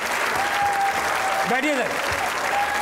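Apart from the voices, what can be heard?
studio audience applause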